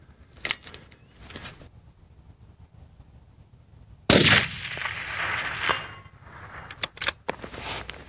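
A rifle fires from a bipod fitted with Talons feet: one sharp, loud shot cracks mid-clip and rings out in a long decaying tail, with a few faint clicks and handling noises before and after.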